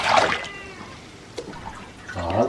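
Fermented milk poured into a 3-litre can outdoors among nomads, a short liquid splash and trickle at the start and again at the end, with a quieter stretch between.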